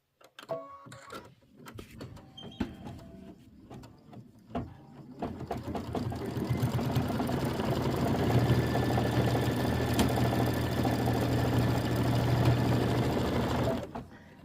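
A domestic sewing machine stitches through quilt fabric, starting with a few short bursts and clicks, then settling into a steady, loud, continuous mechanical whir for several seconds before stopping.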